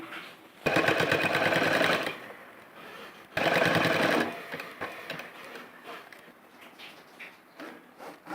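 A sewing machine stitches fabric along the edge beside a dress zipper, running in two loud bursts of rapid rhythmic clatter, each about a second or more, with quieter handling sounds between.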